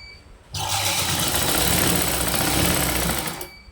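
A sewing machine stitches cross pieces onto a neck band, its motor starting abruptly and running in one loud, continuous whirring burst for about three seconds before stopping.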